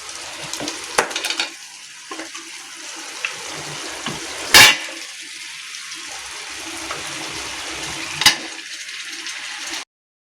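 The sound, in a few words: chicken cooking in a pan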